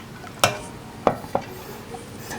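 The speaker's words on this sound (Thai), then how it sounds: "ตักใส่เหยือกก่อนนะครับ" Iced dark chocolate drink ladled into a jug, heard as a few sharp clinks of the ladle against the container with faint liquid movement between them, no speech.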